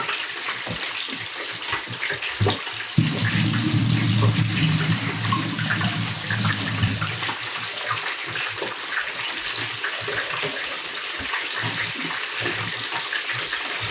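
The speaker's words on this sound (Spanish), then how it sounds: "Voy a lavar las manos un momento." Running tap water gushes steadily as hands are washed at a sink in a children's cooking class, louder for a few seconds in the middle and then settling into a softer continuous flow.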